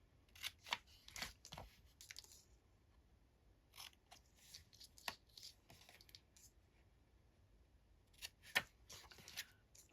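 Scissors snip through paper in short bursts of crisp cuts, separated by quiet pauses, close and fairly faint with no talking.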